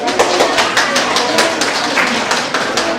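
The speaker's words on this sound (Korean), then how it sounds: "우리 박수 부탁드리겠습니다." Audience clapping at the opening ceremony of a Korean-language class for migrant women, dense and steady across the clip with a few sharper individual claps standing out.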